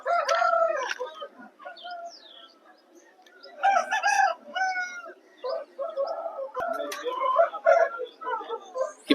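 A rooster at a Vijayawada market crows several times in separate bursts, loud and close, with quieter clucking between calls against a quiet background.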